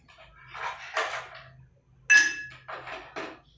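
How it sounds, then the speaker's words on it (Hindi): Ice cubes dropped into crushed grapes in a glass for a grape-mango mocktail: several bright clinks and clatters in separate bursts, close and crisp against a faint low hum. "इसमें हम लोग आइस क्यूब्स डालेंगे"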